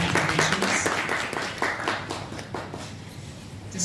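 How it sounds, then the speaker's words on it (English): Applause at a business association signing ceremony, a moderate round of clapping from the audience that tapers off over a few seconds, ending in scattered individual claps. "Can we please hear a loud round of applause for our respected organizations?"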